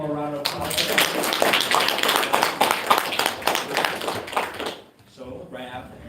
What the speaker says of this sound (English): Can we get just one more round of applause?